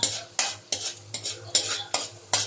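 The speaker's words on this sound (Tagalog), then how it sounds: "Halu-haluin lang natin para hindi masunog" Garlic fries in oil in a pan for kare kare while a utensil stirs it, six or seven rhythmic scraping strokes over a close, steady sizzle, with no talk.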